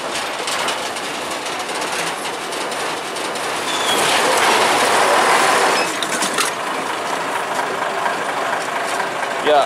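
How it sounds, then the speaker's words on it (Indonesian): Hokuriku locomotive number 7 rolls along rails on a triangular turning track, a steady broad rumble with clatter that swells louder partway through before easing off. "Kali ini lokomotif Hokuriku nomor 7."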